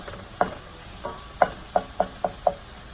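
Vegetables including broccoli pushed aside with a utensil in a hot pan while cooking keto chicken fried cauliflower rice, a series of six or seven sharp scraping knocks over a faint, steady sizzle.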